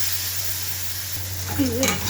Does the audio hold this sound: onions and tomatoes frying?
yes